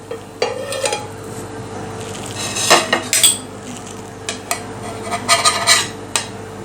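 Sorghum-flour amboli lifted from a pan with a metal spatula, bringing a series of sharp scraping clinks and clatters against the pan, close and fairly loud, with no speech.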